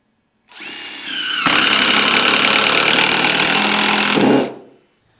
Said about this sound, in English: I'm using an impact driver.